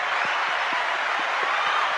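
Cheering crowd sound effect played as a shout-out, a steady wash of applause and crowd noise throughout, loud and unbroken.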